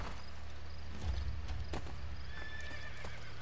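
Horse neighing and hooves clip-clopping in Assassin's Creed Brotherhood, a loud whinny over steady hoofbeats with a few sharp impacts, no talk.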